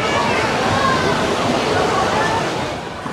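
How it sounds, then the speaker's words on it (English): Water gushes from a water park tower onto waiting children at a Texas Hill Country campground, a loud steady rushing splash with faint crowd noise beneath. "a whole bunch of water pours out of that onto the kids waiting down below to get soaked"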